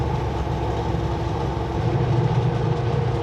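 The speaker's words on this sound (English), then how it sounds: "There's a train down there coming our direction." A train runs along a railroad, a steady loud rumble with faint clickety-clack of the wagons, continuous and unbroken with no voices.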